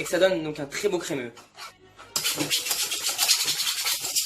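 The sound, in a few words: whisk scraping a new saucepan while mixing cream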